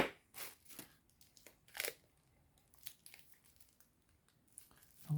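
Faint, quiet snips and crinkles of cutting a piece off a homemade ergonomic toothbrush grip, heard as several short scattered clicks against near silence.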